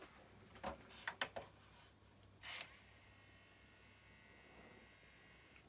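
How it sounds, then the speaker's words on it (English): Inside a Sony MDS-JE440 MiniDisc deck whose disc will not eject, a few faint clicks and knocks are followed by a quiet, steady motor whir, very low and close in an otherwise silent room. "You can hear a motor spinning though."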